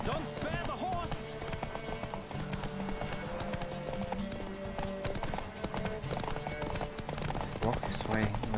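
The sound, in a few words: horse hooves galloping in the video game The Witcher 3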